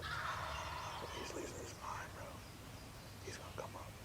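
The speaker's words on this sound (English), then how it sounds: "Yeah. The gobbler. You see him? He's losing his mind, bro." A wild turkey gobbler gobbles in short, rattling bursts outdoors, fairly faint and distant, with quiet whispered voices of hunters close by.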